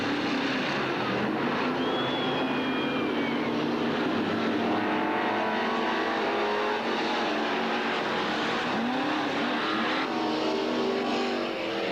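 Super stock race cars circling a one-third-mile dirt track, engines roaring and droning in the distance with passing pitch sweeps, steady throughout, a commentator talking over them.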